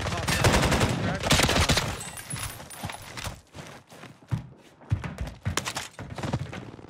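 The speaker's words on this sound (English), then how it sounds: "That's an LMG, a stoner." A Stoner LMG light machine gun rattles off rapid bursts in a first-person shooter, dense and close at first, then breaking into shorter separated volleys with faint voices beneath.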